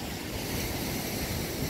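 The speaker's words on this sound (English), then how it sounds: "slowly the waves are washing it away" Waves on a Lake Michigan beach make a steady, dense wash of surf, close and continuous, with wind buffeting the microphone and no voices.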